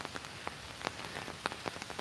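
Rain falling outside, a steady soft patter with scattered sharper drops striking a surface, close by and alone with no talk.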